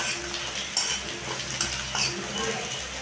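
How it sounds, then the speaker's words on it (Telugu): Ridge gourd pieces sizzle in a hot pan as a spoon stirs and scrapes them around, giving a constant close frying hiss with a few sharp metallic clinks. "ఇప్పుడు బీరకాయ ముక్కలు వేయించేసుకున్నాం"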